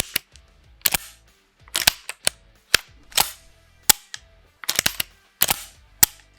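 Aksa Arms Crossfire S4 Wi Wood shotgun action being cycled repeatedly, sharp loud metallic clacks and rattles in irregular clusters, close and alone without talk.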